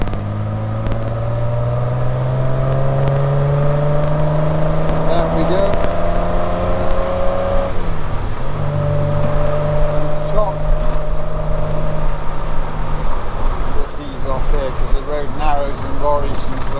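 A 1967 Triumph Vitesse 2 Litre with new electronic ignition pulls hard on a country road, its engine note rising steadily, dropping briefly at a shift, then climbing again, loud and close from inside the car.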